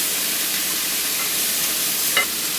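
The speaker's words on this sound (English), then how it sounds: "Stir up the fennel and the onions." Fennel, leeks and onions sizzle steadily in a pan while being stirred, a close, even frying hiss with a brief utensil clink near the end and no voices.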